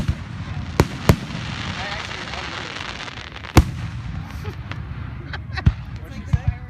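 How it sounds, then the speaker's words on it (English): Fourth of July fireworks burst in sharp, loud bangs scattered irregularly, a few isolated blasts with longer gaps between them, heard over steady outdoor crowd noise while people talk nearby. "Fireworks are getting louder."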